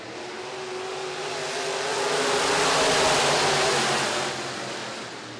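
A pack of IMCA modified race cars roars off at the green flag on a dirt speedway, a loud, blended engine howl that swells to a peak and then eases, with no talking.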